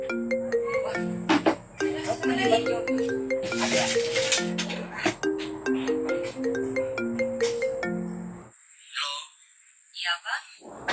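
A melodic phone ringtone plays loudly and steadily as a stepped repeating tune for about eight seconds, then cuts off, followed by brief voices.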